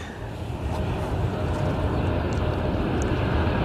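An ITA Airways airliner turns on the runway at Edinburgh Airport, its engines giving a steady, broad roar that swells slightly and holds at moderate distance, with no talking.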